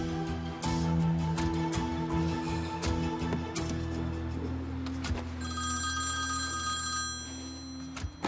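An old-style telephone bell rings in loud, repeated bursts indoors, clear and close, then gives way to a higher electronic ringtone near the end.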